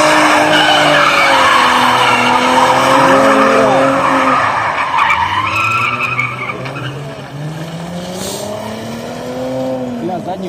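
A car brakes hard on an evening street in Moscow to bed in its brake pads: a loud, sustained tire squeal and skid that wavers in pitch, close by, easing slightly toward the end.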